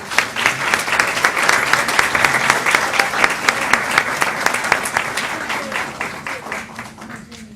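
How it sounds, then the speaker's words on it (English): An audience applauds after a call to honour campaign helpers, dense clapping holding steady and fairly loud for several seconds, then thinning and fading toward the end. "So let's give them all a big round of applause."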